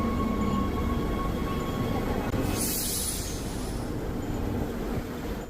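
Railway carriage in Rome, heard as a steady, loud broadband rumble of a train running or idling, with a brief brighter hiss partway through and no voices.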